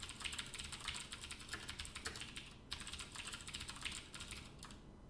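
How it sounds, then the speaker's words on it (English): Rapid typing on a computer keyboard while writing code, a dense run of close, crisp key clicks with a few short pauses, alone and fairly quiet. "I'm sort of typing the function prototype here."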